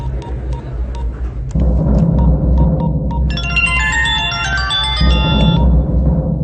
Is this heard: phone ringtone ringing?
yes